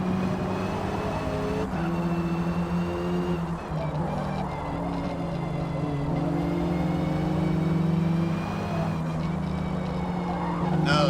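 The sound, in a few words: Ford car racing in Forza video game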